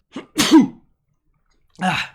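A single sharp sneeze from a person sounds close and loud, with a short soft intake before it and a brief breathy throat noise a moment later.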